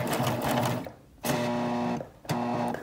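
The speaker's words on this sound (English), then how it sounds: "I'm going to release a little pressure on my fabric so that we get over that seam" A sewing machine stitches over a thick shoulder seam in steady whirring bursts, pausing twice briefly before restarting, close and fairly loud.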